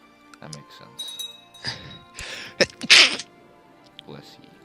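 A single sharp sneeze bursts out close to the mic during casual gaming chatter, with quieter voices and faint clinks around it.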